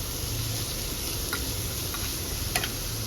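Garlic and chopped vegetables frying in butter in a pan, a continuous close sizzle with light scraping stirs and small ticking pops now and then, no talking.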